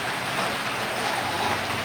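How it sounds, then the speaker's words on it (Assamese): Heavy rain pours in Gohpur, Assam, a loud, steady, dense hiss of downpour that continues throughout without a break. "সাংঘাতিকভাৱে বৰষুণ দিছে"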